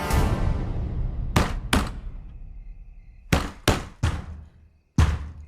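Heavy banging on a door in Hindi film drama: repeated loud thuds in irregular bursts, two blows, a pause, then a quick run of strikes, close and alone over a low background rumble.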